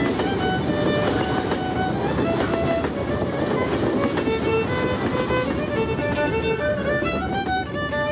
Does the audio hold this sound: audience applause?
no